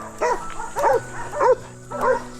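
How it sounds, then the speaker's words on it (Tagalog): A large dog barks four times in an even rhythm at fairly close range outdoors on a ride past a house near a horse gate, with a steady low hum underneath. "Yun, ang laki ng aso, man."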